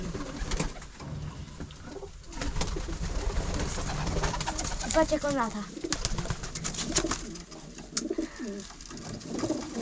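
Pigeons coo and flutter inside a loft with an aviary, their soft rolling calls and wingbeats close by, while someone talks over them.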